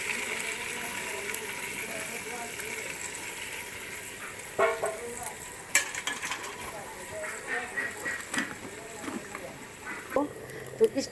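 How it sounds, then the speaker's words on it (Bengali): Meat sizzles as it is stirred and browned in a clay pot, with scraping and clattering spoon strokes over a steady fry, while people talk nearby. "এই যে মাটির হাঁড়িতে সুন্দরভাবে কষিয়ে নিতেছি মাংসটা"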